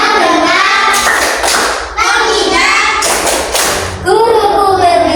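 Children clap out the tepuk konsentrasi clapping game in class, with loud rhythmic claps and thumps in bursts that alternate with children chanting.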